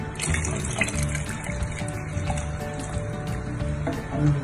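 Steady running water pours continuously into a cooking pot of mung beans and sweet potato, a full gushing stream with some splashing and clatter, close by with no talking.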